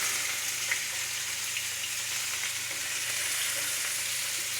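Onions and garlic sizzling in a cast iron skillet, a dense, even hiss of frying that holds steady and close without pauses or voices.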